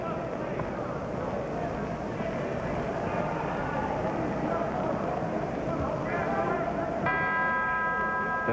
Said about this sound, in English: There's the bell that ends round number 4